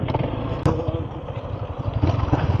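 Motorcycles being parked near Kalaparan Falls in Laiban, Tanay, Rizal: low, steady engine rumble close by, with a sharp knock just after the start and faint voices in the background.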